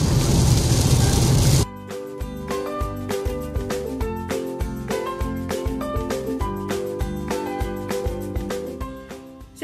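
Heavy rain pours down outdoors at a castle as a loud, steady hiss for the first second and a half, then gives way to rhythmic music with punchy drum hits for the rest.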